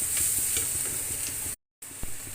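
Grated beetroot frying in a pan, cooked to lose its raw smell: a steady close sizzle with stirring scrapes, a brief gap of silence, then the sizzle resumes with one clack.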